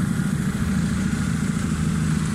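A 1994 Honda car engine runs steadily nearby, a continuous low idle rumble with even mechanical texture throughout, no voices over it.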